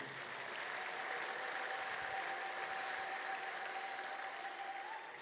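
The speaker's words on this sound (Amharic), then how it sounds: "እባካችሁ አጨብጭቡለት።" Congregation applauding at a church service, a steady dense wash of clapping that holds at full strength for several seconds, with a faint sustained tone beneath it.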